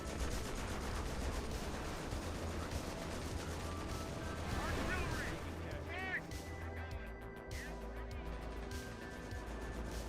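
Heavy tank cannon fire and artillery in a World War II-style war game, a dense rumbling barrage of booms and bursts that eases slightly toward the end, with someone speaking over it.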